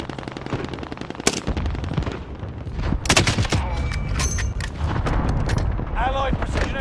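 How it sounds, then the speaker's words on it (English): Allied cluster strike in a war video game: rapid bursts of machine-gun fire give way to a string of heavy booming explosions and crackling blasts, loud and close, with voices shouting over the din. "Allied cluster strike arriving."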